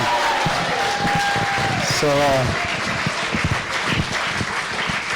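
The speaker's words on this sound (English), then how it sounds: "round of applause for the band" A crowd applauds with a dense, steady patter of clapping, while a voice speaks over it and some brief musical tones ring out.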